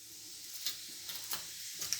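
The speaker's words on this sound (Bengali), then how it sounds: "তেল গরম হয়ে গেছে জিরে ফোড়ন দিয়ে দিই" Cumin seeds temper in hot oil for a chola dal, giving a soft steady sizzle with a few faint crackles and pops, quiet and close, with no voices.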